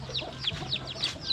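Several chickens, including a blind hen, cluck and chirp in quick, overlapping calls, close by and fairly loud, with no talking.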